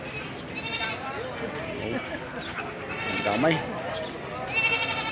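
Several goats bleat in repeated, wavering cries over a busy background at a goat farm in Padre Garcia, Batangas, with a person speaking briefly among the animals.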